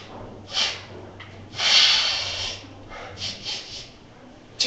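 A voice imitates the wet sniffling of a congested office coworker, giving a few short bursts of nasal breathy sniffs with pauses between them, close and moderately loud.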